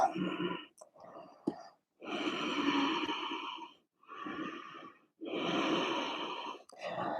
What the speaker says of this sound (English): Ujjayi breath. Although the throat is constricted.